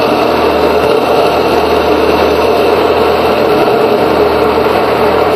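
Electric mixer blending cornbread batter, a loud steady motor whir with constant buzzing hum and no pauses, close up and unbroken by any voice.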